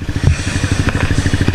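Trail motorcycle working along a slanted hard-trail track, its engine putting out a close, continuous rough throb with rapid rhythmic low pulses and some clatter throughout.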